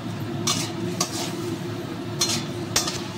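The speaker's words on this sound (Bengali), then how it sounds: "এবার একটু মশলাটাকে সামান্য কষে নেব" Spices with ground black pepper and salt stir-fried in a pan for a Bengali koi fish curry, a steady low frying hiss under occasional scraping clinks of a spatula against the pan.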